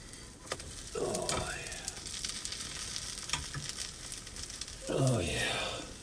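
Cornbread fries in a pan inside a hot tent, a steady close sizzle running throughout and swelling twice, with brief vocal sounds rising over it near the start and end.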